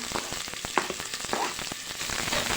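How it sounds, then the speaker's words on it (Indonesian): Chopped onions and garlic fry in hot oil for beef rendang, giving a close, continuous crackling sizzle with scattered sharp pops and a few stirring sounds, and no voices. "lanjut kita goreng bawang dulu untuk daging ya"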